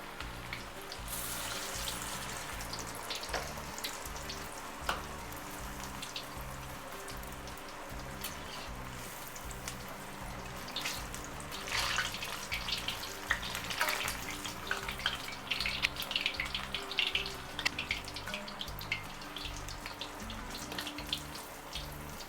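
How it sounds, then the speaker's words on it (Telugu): Sweetcorn garelu sizzle in hot oil with a steady, dense crackle and spatter that swells a little partway through and carries on without talk. "మంచిగా ఫ్రై అవ్వనివ్వాలి."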